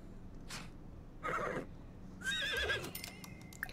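Short bursts of noise followed by a high, quavering horse whinny in The Sims 4 video game that stands alone at a moderate level.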